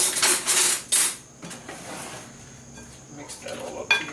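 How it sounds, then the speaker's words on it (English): Peach pie filling is stirred in a bowl, with a few sharp clinks and scrapes of a utensil against the dish, then quieter intermittent clatter. "now what we're going to do is take our filling, mix that all up"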